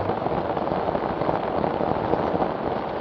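Steady, dense rain falls on a hiking trail up Mount Agung in Bali, a constant close hiss with no voices.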